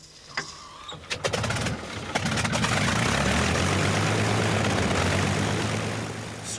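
A propeller-driven fighter plane flies past, its engine drone swelling from a rising roar to a loud, steady throb with a strong low rumble, then easing slightly toward the end.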